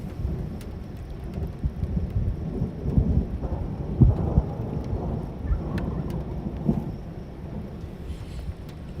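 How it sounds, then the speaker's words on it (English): Thunderstorm near Sidney, Nebraska, with steady rain and rolling low thunder throughout; faint gobbles from wild turkeys may sit within the storm noise, with no talking. "Just heard some turkeys."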